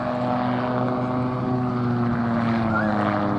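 A quiet German-made aircraft engine runs at an air festival, a steady droning hum with propeller tone held at an even level throughout, no speech over it.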